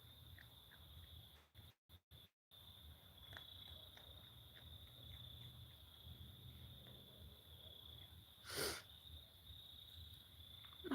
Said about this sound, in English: I still hear the insects in the background